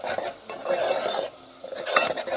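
Food frying in a pan, with a soft sizzle under clattering metal utensil scrapes and stirring strokes, close and fairly loud with no talk.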